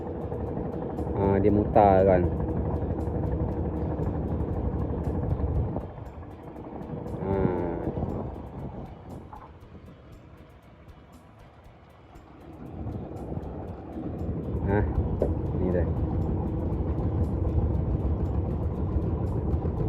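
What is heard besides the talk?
boat motor towing floating fishing platform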